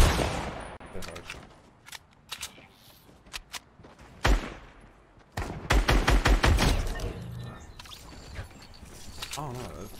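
Video game gunfire crackles in quick bursts and rapid volleys mixed with mechanical clicks and reload clatter, fairly close and loud, with brief quieter gaps between.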